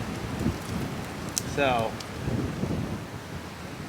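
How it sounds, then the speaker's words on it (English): Wind blowing straight off a lake at a camping spot, a steady broadband roar that runs through the whole stretch with a brief gusting swell, while a person says a word. "You guys can probably hear that wind. It's coming straight off the lake."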